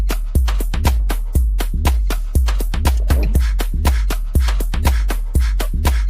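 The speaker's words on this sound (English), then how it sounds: "Yeah, that's house. This is house music." House music plays loud and close: a steady four-on-the-floor kick thumping at a dance tempo, with clicking percussion on top and nobody talking.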